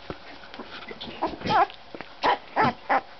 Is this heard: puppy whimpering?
yes